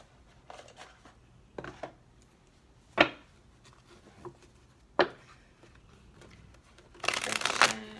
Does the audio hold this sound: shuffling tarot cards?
yes